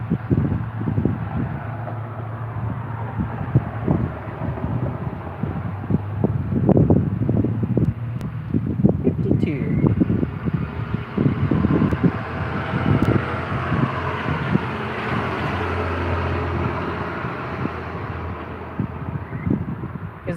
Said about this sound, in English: It's getting windy. Hopefully it'll slow down here.